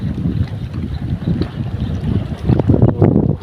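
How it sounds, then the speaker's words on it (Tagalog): Steady wind gusts over a small fishing boat at sea during spearfishing, a continuous low rumbling roar that swells louder toward the end, with no talking. "Saka medyo mahangin."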